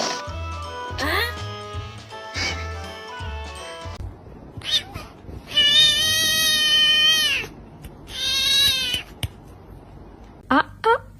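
Cats meowing and caterwauling, a few short meows followed by long, loud drawn-out wails with pauses between them, over a stretch of music at the start.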